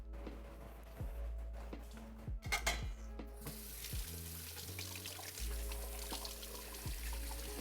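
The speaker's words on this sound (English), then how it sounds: "we'll give it a nice soap and water wash with the scrubby" A pan washed with soap, water and a scrubby, with running water pouring and splashing, plus scrubbing and light knocks of the pan, close and steady.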